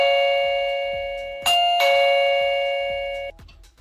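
A Laxihub B1 battery video doorbell chime rings out loud and close, sustaining bright tones with two struck notes near the middle before cutting off, alone with no talking.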